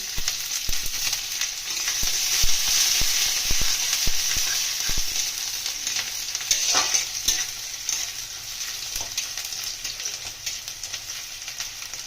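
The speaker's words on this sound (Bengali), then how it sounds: "গোটা গরম মশলা ফোড়ন দিয়ে দেবো দারচিনি শুকনো লঙ্কা তেজপাতা এলাচ" Whole spices sizzling in hot oil in a pan, cinnamon, dried chili, bay leaf and cardamom, a steady bright crackle with scattered pops and occasional stirring scrapes, close and continuous without talk.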